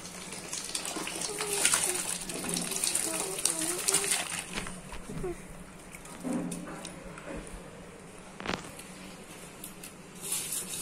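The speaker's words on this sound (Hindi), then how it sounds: "अब पानी उबल चुका है। अब हम इसमें डाल रहे हैं 2 किलो चावल।" Two kilograms of rice pour into a pot of boiling water for Hyderabadi biryani, making a gushing, splashing rush. Speech and a voice sound faintly nearby as the splashing comes and goes.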